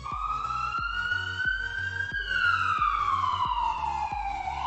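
An ambulance siren wails in traffic, loud and close, its rising and falling tone sweeping repeatedly over rhythmic low thumps of surrounding noise.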